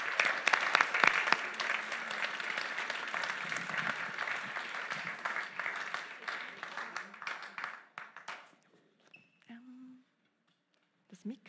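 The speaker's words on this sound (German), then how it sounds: "gebt ihnen doch einen Applaus" A church congregation at a German youth-program graduation service applauds two leaders coming onstage, a loud, full burst of clapping that thins and fades out after about eight seconds, followed by brief handling noises and a short voice.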